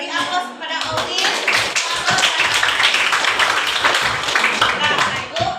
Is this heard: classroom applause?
yes